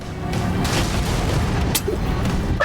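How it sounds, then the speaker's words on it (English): A Halo 2 explosion lands as a dense, loud boom that rolls through the whole moment, with rumbling low-end impacts and a few bright bursts cutting through. "The explosion was so well timed."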